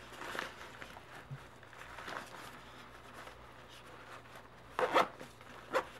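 A stuck zipper on a lightweight packable travel backpack is tugged in a few short rasping pulls amid soft fabric rustling, the last two pulls louder and quicker, with no speech.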